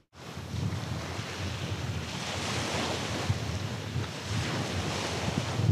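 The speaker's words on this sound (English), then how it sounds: "when the waves come in" Sea waves wash onto a beach in a loud, continuous surge close by, with gusts of wind buffeting the microphone and no voices.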